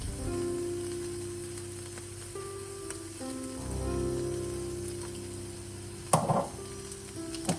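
Soya meat sizzles steadily on a grill after a sprinkle of sesame oil, a soft continuous crackle under low hum, with a brief sharper clatter near the end.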